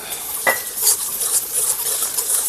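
Ginger paste drops into garlic paste frying in a pan; a metal utensil clinks sharply against the pan once, then stirring scrapes carry on over a light, steady sizzle.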